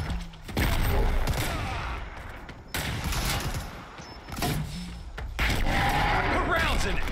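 Bursts of gunfire in a video game aimed at an armored Predator, loud rapid fusillades in three or four clusters separated by brief pauses, close and dense.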